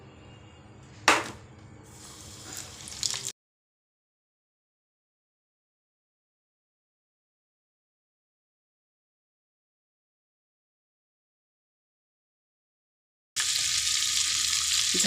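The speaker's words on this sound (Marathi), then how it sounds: "आता आपण तळायला घेऊया." Fresh Bombay duck fish pieces, coated in a spice mix, crackle and sizzle in hot oil for a few seconds. Then everything goes silent before the steady frying hiss returns near the end.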